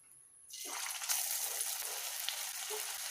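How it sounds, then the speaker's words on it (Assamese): Raw banana pakoras shallow frying in a reduced amount of oil over a lowered gas flame, a steady close hiss and sizzle that starts abruptly after a moment of quiet and continues unbroken. "মই মানে একেবাৰে ডিপ ফ্ৰাই নকৰোঁ, চেল' ফ্ৰাইহে কৰিম, সেইবাবে তেলটো অলপ কমাই দিছোঁ"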